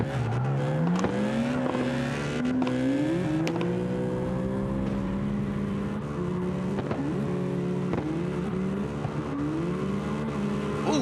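Drift race cars battling in an Eliminator round at Irwindale, engines revving and wailing up and down in pitch with tire squeal and bursts of throttle, loud and continuous throughout.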